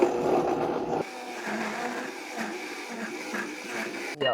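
A Vitamix blender grinds frozen tomatoes with a steady, loud motor whir, one speed change near the start, then running evenly before cutting off.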